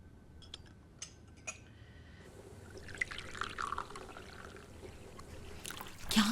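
Hot water poured into a cup or vessel at a domestic serving table, a steady trickle building and then ending, preceded by light clinks of cutlery or crockery.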